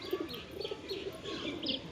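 Household pigeons, including a green Dobaz male, give soft, low cooing phrases in short repeated bursts, quiet and close against a faint background hiss.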